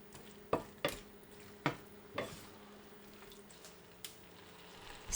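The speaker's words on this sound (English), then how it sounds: "Stir and cook for another 2 to 3 minutes." Squid and pineapple stir-fried in a pan give a quiet, steady sizzle, broken by several sharp scrapes and clinks of a utensil stirring against the pan at irregular intervals.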